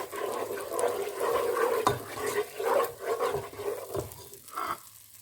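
A heaped teaspoon of ginger garlic paste frying in hot oil in a pan for a Kashmiri kofta gravy, giving a steady close sizzle with stirring scrapes that fades near the end.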